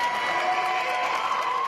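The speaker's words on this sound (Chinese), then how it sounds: "獲在場人士喝彩。" Crowd cheering and applause at a university graduation ceremony, a steady, dense roar of many voices held at even loudness for the whole stretch, with no single voice standing out.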